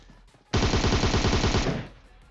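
Rapid automatic gunfire in PUBG Mobile, a loud close burst of about a second of continuous rattling shots that cuts in sharply and then tails off.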